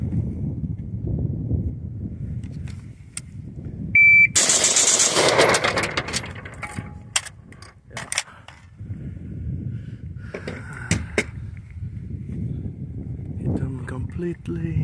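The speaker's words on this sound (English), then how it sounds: "See if I can shoot fast and hit steel target." An AR-15 rifle fires a fast, loud string of shots at steel targets on a timed drill, followed by scattered single cracks. A voice talks before and after the shots.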